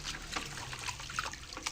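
Water rinsing washed palm kernels, a steady trickling and splashing with small irregular spikes throughout, fairly faint and close, with no talk.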